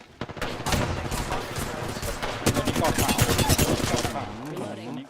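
Gunfire in the Apex Legends video game: a rapid stream of loud automatic shots building to a dense barrage, with people talking through it.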